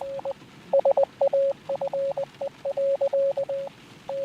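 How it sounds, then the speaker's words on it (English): Steady electronic Morse code beeps from the video game Letter Lost, a single clear tone pulsing in short dots and longer dashes with brief gaps, even and moderately loud throughout. "is it Morse code?"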